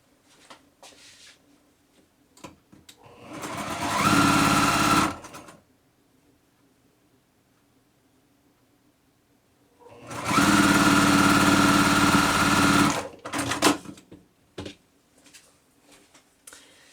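A sewing machine stitches pinned quilt block pieces for a stretched nine-patch block in two distinct bursts of rapid, close whirring, with quiet gaps of small handling noises between them.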